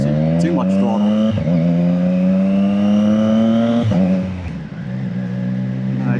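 A Triumph Trident Tribute motorcycle engine revving under throttle, loud and close with a steady rising drone, sharp blips and a dip in revs near the end, while someone talks over it.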